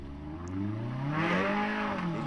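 Modified Suzuki A-Class 4x4 trial truck engine revving steadily, its pitch rising and falling with a loud, continuous drone close by.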